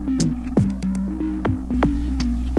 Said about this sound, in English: So it sounds like some machine hum